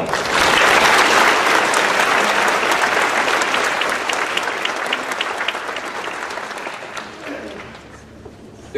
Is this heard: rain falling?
no